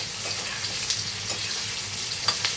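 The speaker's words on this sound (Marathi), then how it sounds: "तर बघा कांदा आणि शिमला आपण मस्त अशी शिजून घेऊया" Onion and capsicum frying in a pan, a steady close sizzle with occasional light clicks and scrapes of a spatula.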